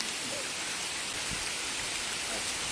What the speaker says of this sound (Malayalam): മഴ പെയ്തു ഗൈസ്.